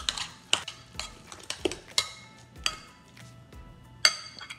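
Guacamole stirred in a bowl, with sparse metallic clinks and taps of a utensil against the dish, close and fairly quiet, spaced irregularly with no talk.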